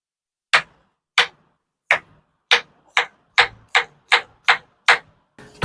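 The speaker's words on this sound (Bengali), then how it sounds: "তরমুজটা স্লাইস করে কেটে নেবেন।" A knife cuts through a red watermelon in ten crisp, evenly spaced chops, each a sharp close impact with a short crunchy tail, alone with no voices.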